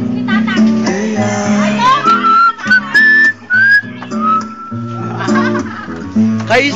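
Several people whistle a gliding melody over a dense mix of children's voices and lively background music, the whistled line rising and falling in the middle of the passage.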